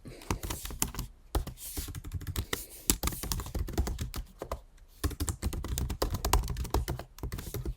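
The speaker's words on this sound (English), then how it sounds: "so you can see me type, and I can just hit enter and it pops up" Fast typing on a computer keyboard while writing a chat message, a dense run of crisp close key clicks with brief pauses and a few heavier key thumps, with no speech.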